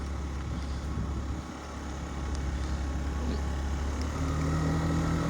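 A Yamaha BWS 49 four-stroke fuel-injected off-road scooter rides along on a cold day, giving a continuous low engine hum with wind rumble that rises in pitch and loudness toward the end.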